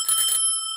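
A vintage Union bicycle's handlebar bell rings once up close, a bright metallic ding that hangs and fades slowly on its own.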